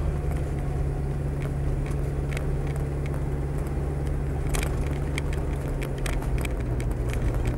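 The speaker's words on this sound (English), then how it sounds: "You hear the turbo working nicely there." A Range Rover with a 300TDI turbo diesel drives along, a steady low engine drone and road rumble inside the cabin with a faint turbo whine and occasional small clicks, no talking.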